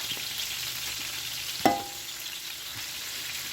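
Pieces of meat for paella sizzling skin side down in a hot pan, a steady frying hiss with a brief clatter partway through as a piece is set down.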